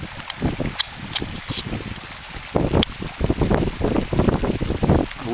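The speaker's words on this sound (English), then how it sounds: "The wind's starting to pick up a little bit" Gusty wind buffeting on an open mountainside, rumbling in uneven bursts close against the microphone and growing stronger toward the end.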